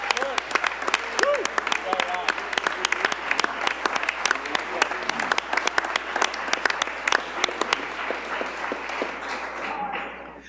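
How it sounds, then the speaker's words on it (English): At a CPS Board of Education meeting, an audience gives students a sustained round of applause. The dense, even clapping runs for about ten seconds and thins out only at the very end. "let's give them another round of applause."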